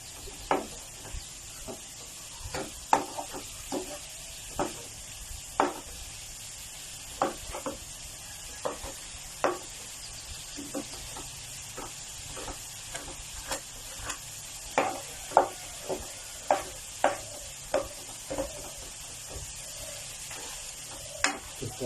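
Tofu sizzles steadily in a hot wok while a utensil scrapes and taps repeatedly against it in an irregular rhythm.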